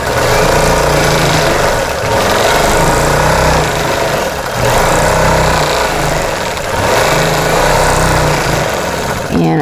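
A quilting machine runs in manual mode, slowly stitching loose swirl patterns, producing a loud, continuous motor drone with gentle rises and dips in pitch as the stitching speed shifts.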